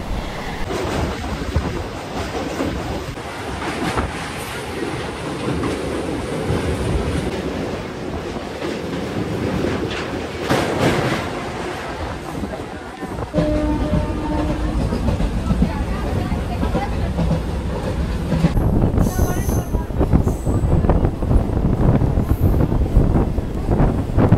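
A Howrah to Digha local train runs steadily on the rails, its loud continuous rumble and wheel clatter filling the whole stretch, with a brief shift in tone partway through and occasional voices faintly underneath.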